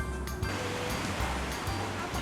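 Ocean surf rolls and washes along the rocky Busan coast near the Oryukdo islands, a steady broadband roar with gentle surges, fairly close and with no voices.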